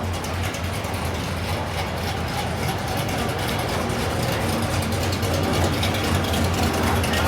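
Chevrolet Blazer arriving at the SEMA 2017 show, its engine giving a steady low rumble that builds slightly louder as it pulls in amid background bustle.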